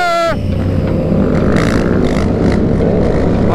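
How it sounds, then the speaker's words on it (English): A loud motorcycle engine runs steadily and close by at a stunt-riding session, a broad continuous roar that swells and surges, with a voice briefly calling out over it. "Bike is so loud."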